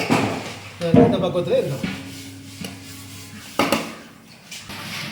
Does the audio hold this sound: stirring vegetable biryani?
yes